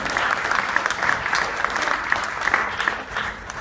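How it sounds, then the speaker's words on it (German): Audience applause at a conference talk, a sustained and fairly loud burst of clapping from a crowd that tapers off slightly toward the end. "danke für den Applaus"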